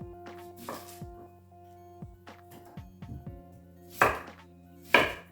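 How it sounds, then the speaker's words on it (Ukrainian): A peeled onion being chopped on a cutting board with a knife, producing a series of close, crisp chops in an irregular rhythm, with two louder strikes near the end. "Заздалегідь начистила цибулю і також її нарізаємо, щоб вона увійшла в горловину."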